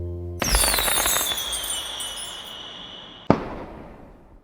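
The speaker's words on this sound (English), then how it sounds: "the fireworks will paint with sparkling colors, turning the sky of London into a scene of shooting stars in a few seconds" Fireworks exploding over London: a sharp burst opens into a long crackling, sparkling shower with a high whistle, then a second loud bang near the end starts another fading crackle.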